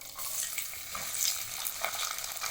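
Onions sizzle in hot oil with a steady, close crackle and hiss, and a spoon stirs through them now and then, while cooking a pea and potato kurma.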